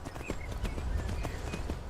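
Horse hooves clip-clopping at a steady run in the Skyrim video game, close and continuous for the whole stretch with no talk over them.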